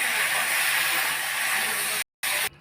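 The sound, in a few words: spices and masala sizzling in hot pan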